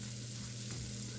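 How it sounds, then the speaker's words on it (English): Vegetables and garlic sauté in bacon grease in a pan, giving a steady, even sizzle with no break, close and moderately quiet. "we're going to kind of saute them up over here, along with the garlic, just to kind of soften them up a little bit"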